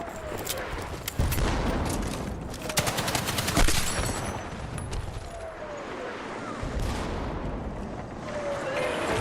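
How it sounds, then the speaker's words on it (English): Rapid gunfire and explosions from an online multiplayer shooter game, with dense bursts of automatic fire and blasts layered over continuous loud battle noise. "Literally didn't even hear it because of all the explosions."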